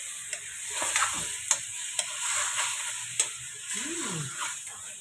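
A utensil stirs squid adobo in a sizzling pan, giving a steady frying hiss broken by sharp, regular taps and clicks of metal on the pan. A faint voice sounds briefly in the background.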